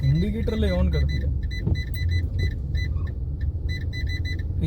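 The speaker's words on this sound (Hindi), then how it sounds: "फिर टाइपिंग कौन कर रहा है गाड़ी के अंदर सारा ची ची ची" Inside a moving Fiat Linea, the dashboard screen gives off bursts of rapid, high chirping beeps that sound like typing. A voice is heard briefly at the start, over the low rumble of the car.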